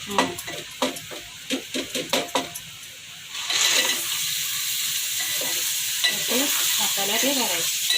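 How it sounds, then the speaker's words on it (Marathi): Masala for a Malvani crab dish is stirred in a pan, a few clinks of the spoon first, then a steady, loud sizzle of frying spices with scraping strokes near the end. "हे नंतर फोडणे देते ती जरास मसाला परतून झाल्यावर"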